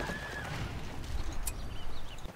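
Cavalry horses of the Riders of the Mark in the Battle for Middle-earth strategy game neigh loudly and clip-clop over ground. A single whinny rises above steady galloping hoofbeats that come in close.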